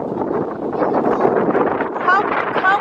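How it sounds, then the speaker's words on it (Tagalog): Wind gusts rumble and buffet across an outdoor microphone, a loose, uneven roar that rises and falls under nearby voices. "Mahangin."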